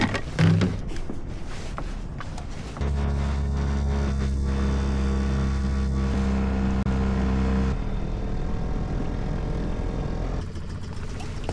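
A small outboard engine on a boat off Waiheke Island, New Zealand, kicks in after a few seconds of clatter and drones steadily and close at a constant pitch, shifting tone partway before easing off near the end; no talking.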